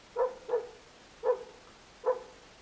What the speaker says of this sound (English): My dog's barking yet again.